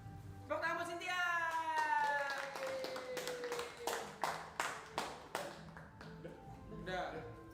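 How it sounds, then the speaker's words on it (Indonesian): A few people at a livestream opening clap briefly after a burst of lively talk and vocal sounds; the claps are sparse, spaced, fairly close and not a full crowd. "Tepuk tangan buat Cynthia."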